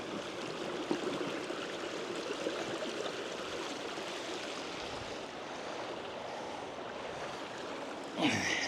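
A river flowing past a gold panning sluice, a faint, steady babbling rush of moving water with a small splash near the end and no talking.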